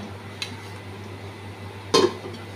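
A lid set onto a cooking pot of potato and katla fish curry, one soft tap followed by a louder metallic clunk, close, over a low steady hum.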